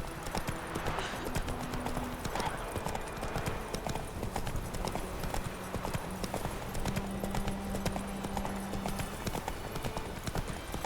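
In the video game The Witcher 3, a horse's hooves clip-clop in a steady, brisk rhythm across the whole stretch. The hoofbeats are moderately close, with a brief whinny and some character voices over them.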